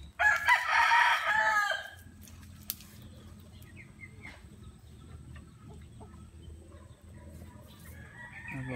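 A native rooster crows once loudly and close at the start, followed by quieter clucks and low background farmyard noise from other fowl.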